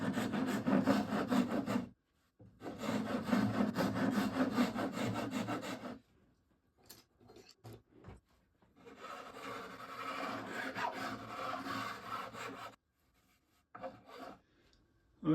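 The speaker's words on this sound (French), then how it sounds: "j'ai poncé l'ensemble de la pièce" Hand sanding of a curved wooden toilet paper holder, with two long bursts of steady rasping strokes separated by pauses, close and fairly loud, followed by faint handling sounds and no talk.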